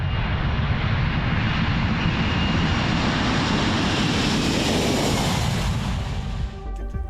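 A Qantas Boeing 747 jumbo jet roars on takeoff, a loud continuous engine rumble and hiss that fills the whole span and eases slightly at the end.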